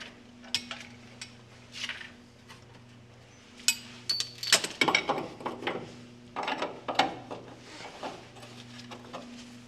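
A wrench loosening nuts on the coil spring and ball joint suspension of a 1960 Pontiac Bonneville: scattered metallic clicks, clanks and tool rattles, close and uneven, growing busier midway, with no talking.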